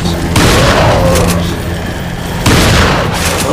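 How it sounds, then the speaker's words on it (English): Shotgun blasts in Resident Evil 4 gameplay: two loud booming shots roughly two seconds apart, each with a sharp onset and lingering rumble, over a steady background of game ambience. "And now there's a little too many of them, so we're gonna shotgun."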